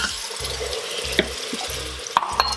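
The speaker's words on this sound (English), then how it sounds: "So you put the water," Water poured into an Instant Pot while cooking stuffed Indian eggplant, a broadband splashing wash with a few bright clinks from the pot, close and steady under no talk.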